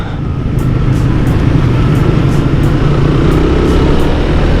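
A car rolling along a road close beside a motorcycle, a steady loud roadway rumble of engine and tyres with wind buffeting, no voices.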